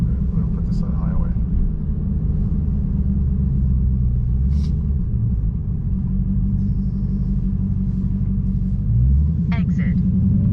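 Dodge Challenger Hellcat Redeye with a muffler delete rumbling from inside the cabin while cruising, a deep steady exhaust drone that swells briefly near the end.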